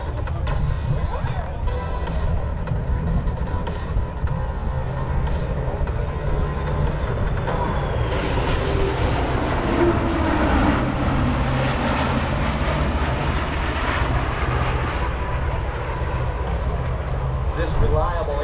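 A USAF C-17 cargo jet makes a flyby at the Stuart Air Show in Florida, a loud continuous jet engine roar that swells in the middle, with voices talking underneath.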